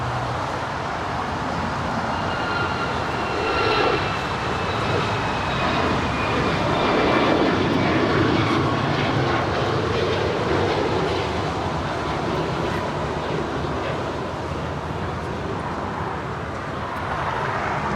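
Airliner landing at Los Angeles International Airport, a continuous broad jet roar swelling gently and fading over several seconds, heard from a distance without talk.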